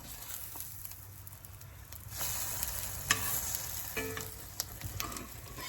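French toast in butter sizzles softly and steadily in a seasoned cast iron pan, with a few light scrapes and taps of a utensil rising above the low frying hiss.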